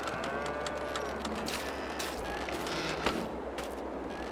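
Cows mooing on a farm in the Farming Simulator 22 video game, quiet lowing calls over a steady background hum with scattered faint clicks and thuds, no talking.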